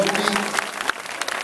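An audience applauds the Olympic flame's arrival in Xanthi, giving a brief burst of dense, crackling clapping with a faint murmur of voices underneath.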